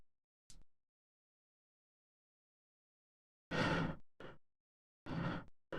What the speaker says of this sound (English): you see how bitty that was, because the noise gate has said, you're not making noise above this amount, so I'm gonna shut down